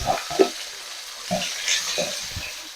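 Onions and cardamom frying in oil with chilli, cumin and cinnamon for a chicken curry, a soft steady sizzle broken by a few stirring scrapes and clinks, close and alone.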